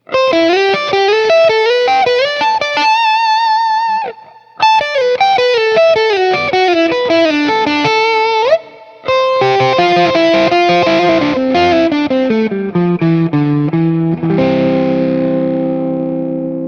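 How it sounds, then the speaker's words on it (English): Overdriven electric guitar, a Schecter Fastback II on the neck pickup, with a warm, smooth tone, playing melodic lines and chords alone, with a brief pause midway and a ringing final chord. "let's start up on the neck pickup with a little overdrive"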